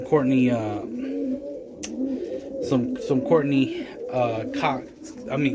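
Roller pigeons coo repeatedly in a breeding loft, soft rolling calls recurring throughout at close range, with someone talking over them much of the time.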